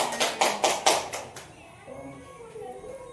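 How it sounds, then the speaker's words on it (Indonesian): A short run of about six sharp hand claps sounds close and loud, then stops. Faint children's voices and light room noise follow. "Tepuk tangan."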